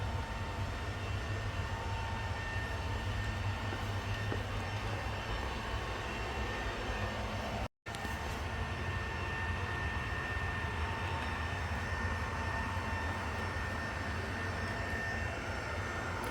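Steady broadband whirring hum of a running ROPVACNIC robot vacuum cleaner, even and continuous with no speech, briefly cut by a split-second gap partway through.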